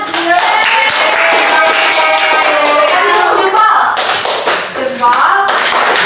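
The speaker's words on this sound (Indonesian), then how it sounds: "Beri tepuk tangan." Classroom pupils clap together in a steady, close burst of hand claps that fills the room, a brief dip near the end before the clapping picks up again, with a few voices mixed in.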